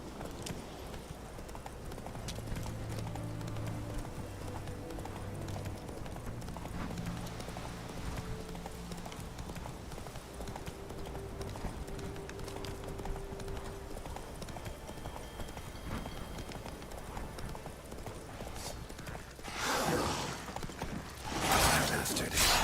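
Horse hooves clip-clop in a steady galloping rhythm in The Witcher 3 game, fairly quiet and close, with game music tones underneath and a louder rush of noise near the end.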